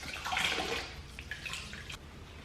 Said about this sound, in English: I'm gonna plunge it in the warm water.